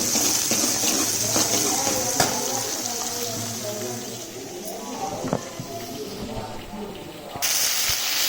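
Chopped onions sizzle in hot oil with mustard seeds and cumin, a steady bright hiss with small crackles and spatters throughout, close and continuous, for a bendakaya (okra) curry.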